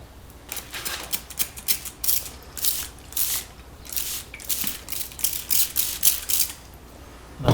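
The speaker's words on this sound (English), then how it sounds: "Now I'm going to spray the other side." Spray bottle spritzing water onto tissue over Mylar: a rapid series of sharp hissing bursts, some single and some in quick clusters, close and fairly loud.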